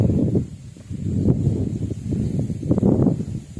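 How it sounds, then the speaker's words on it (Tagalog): Strong gusts of wind over a farm field in Nueva Ecija buffet and rustle close to the microphone in uneven, rumbling bursts. "malakas simoy ng hangin."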